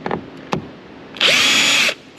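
A power drill loosens bolts on a BMW 5 Series G30 door, with a couple of short clicks and taps first, then one steady, close, high whirring burst lasting under a second, with no talk.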